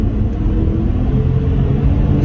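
An old non-turbo Subaru Outback engine accelerates at full throttle, a loud, steady, deep rumble that holds without a break from inside the car.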